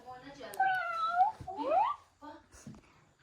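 A cat meows several times up close, with drawn-out, rising and falling calls and a short pause between them.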